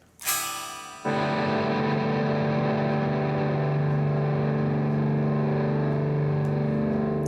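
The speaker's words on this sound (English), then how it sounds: "You're just going to strum all 6 strings open and slowly swell your volume back on." Electric guitar with all six open strings strummed, a sharp attack and then a jump in level as the volume swells, leaving a sustained, ringing chord that holds steady to the end, alone and fairly loud.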